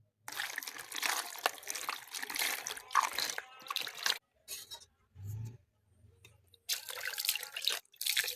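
Water rinsing feet during a foot wash: close splashing and trickling in several bursts, separated by quiet pauses and a few soft drips.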